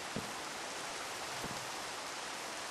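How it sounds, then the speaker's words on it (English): Steady rain falls outdoors as a dense, even hiss that stays constant throughout, with a couple of faint low thumps and no talking. "Looking at the beautiful rain"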